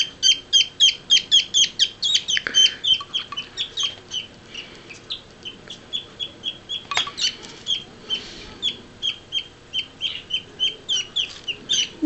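Baby parakeets give rapid, high repeated peeping calls in a steady rhythm while being hand-fed, close and loud, pausing briefly before resuming.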